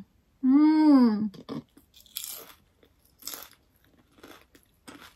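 Biting into a fried banana spring roll (turon), a few close crisp crunches and chewing sounds following a drawn-out hummed vocal, with quiet gaps between bites.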